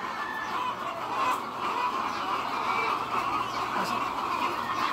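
A loud, constant chorus of many hens clucking and cackling at once on an egg farm in San Jose, Batangas, Philippines, a crowded poultry house noise with no pauses.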